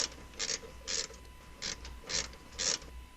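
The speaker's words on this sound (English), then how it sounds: "we'll first tighten it up using our ratchet until it's quite tight" A ratchet tightens the caliper bracket mounting bolts on the rear brakes of a 2015-or-later Subaru WRX, giving short, evenly spaced bursts of close, crisp clicking with brief pauses between strokes.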